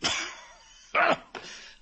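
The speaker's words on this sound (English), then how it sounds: "Lousy cough. Had it for a month." A person with a month-long cough coughs three times, a long raspy cough followed by two shorter harsh bursts, close and loud.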